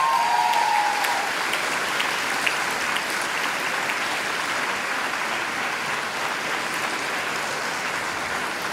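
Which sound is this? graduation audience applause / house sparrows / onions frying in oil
graduation audience applause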